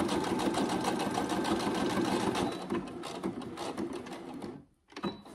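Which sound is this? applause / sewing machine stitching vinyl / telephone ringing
sewing machine stitching vinyl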